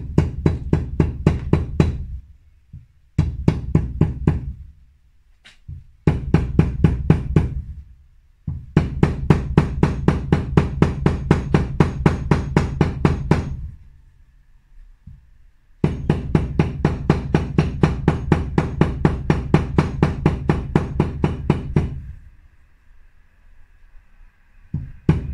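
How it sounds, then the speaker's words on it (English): A rubber mallet knocks a hot part into place on a TriBSA motorcycle build. The blows come in several bursts of rapid, rhythmic strikes, separated by short pauses of quiet. "So rubber hammer time."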